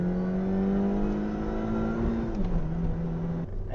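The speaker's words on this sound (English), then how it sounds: "And the engine, it does like to rev." A Mini Cooper S engine revs steadily and close by, its drone holding a sustained pitch, dipping slightly before cutting off near the end.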